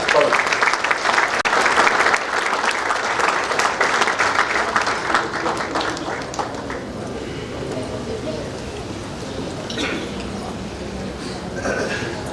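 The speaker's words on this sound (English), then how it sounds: "Please join your hands with a standing ovation and a big round of applause" A crowd gives a standing ovation for a new Rotary club president at a team installation event, with loud, dense, close applause that gradually eases to a lighter patter, with some voices mixed in.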